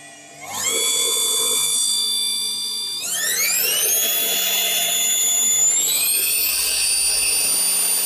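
A Monsieur Cuisine Plus kitchen robot with a motor fault runs at speed 3. Its motor gives a loud, steady high-pitched whine that steps upward in pitch twice as it spins up, then holds close and continuous.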